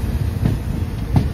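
Train running near Rajapur station in Sindhudurg, Konkan: a steady, close rumble of carriage and wheel noise with a couple of soft rhythmic knocks over the track.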